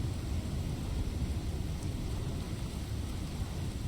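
Thunderstorm with rain in the survival game Icarus, a dense, steady wash of rainfall and low rumbling noise, loud and continuous without breaks, no voices.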